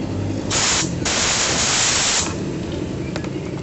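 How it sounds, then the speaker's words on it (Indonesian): Compressed air from an air compressor sprays in loud, steady hissing bursts to blow dirt off parts of a Honda Revo fuel-injected motorcycle during light servicing, with two long blasts separated by a short gap. "karena saya ada kompresor ya, saya semprot lagi biar kotorannya segera menghilang atau kabur ya"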